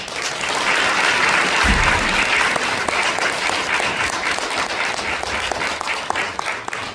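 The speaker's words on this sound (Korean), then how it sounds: "우리 박수를 모시겠습니다" A revival meeting congregation at a church gives a sustained round of applause to welcome a visiting pastor to the pulpit, a thick continuous wash of clapping at steady loudness with a single low thump early on, no voices on top.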